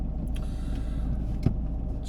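A car pulls up and stops on the left behind a parked car, a steady low engine and road rumble running close and even throughout, with a brief soft knock near the end.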